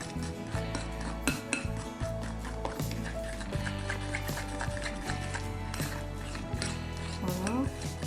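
Spoon or whisk clattering against a bowl while stirring a thick milk chocolate brownie batter, busy repeated metallic scrapes and clinks that stay close and fairly loud, with a brief voice near the end.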